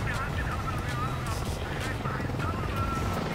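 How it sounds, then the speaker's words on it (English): Steady whirring rotor and engine drone of a helicopter in the combat flight game Ace Combat: Assault Horizon, loud and continuous with a person talking over it. "Get that damn helicopter out of my way."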